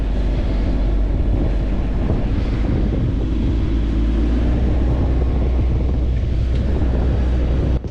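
A boat engine revs up under added throttle with the propeller in reverse, pulling the hull back against a set anchor at sea; a loud, steady low rumble with wind buffeting the microphone throughout, no voices.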